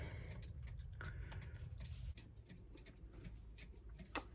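An antique clock movement, freshly repaired, ticks steadily in the background as a soft, regular beat beneath low room noise, with a brief sharper click near the end.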